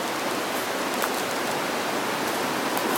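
High river water pours steadily over Shrewsbury Weir after Storm Arwen, a dense, continuous broadband rush that stays even and unbroken throughout with no voices.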